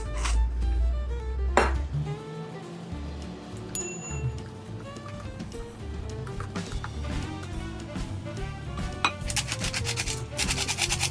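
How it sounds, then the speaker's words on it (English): Crepe batter with a teaspoon of cinnamon being mixed gently in a bowl, giving soft rubbing and scraping strokes with occasional clinks of utensil against dish, close and steady with no talking. "Also 1 teaspoon of cinnamon. I'm adding and mixing gently."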